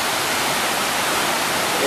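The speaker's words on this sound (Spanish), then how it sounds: "está saliendo un montón de salpicado de agua por todos lados" Cascada Azul waterfall at Pedro Vicente Maldonado pours down with a steady, dense roar of crashing water and spray, loud and close, with no pause throughout.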